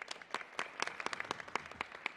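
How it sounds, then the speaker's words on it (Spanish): Audience applause at a Mexican archive presentation event, a steady burst of many hands clapping with sharp overlapping claps, moderately loud and close, no talk over it. "a quien pedimos un aplauso, por favor."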